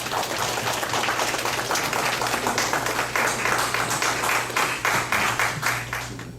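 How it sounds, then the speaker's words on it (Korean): Lecture-hall audience applauds a professor before a special talk on Ming and Qing painting history, a dense, sustained clapping over a low steady hum, with individual claps standing out as it goes on. "한권인 교수님 박수 부탁드리겠습니다."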